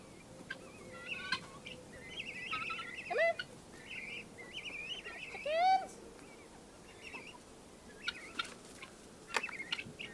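Several chickens cluck and squawk in short bursts, with rising calls and brief sharp sounds scattered over a quiet background, on a homestead as the flock is let out of its coop.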